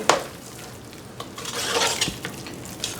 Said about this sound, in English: you stir that in real good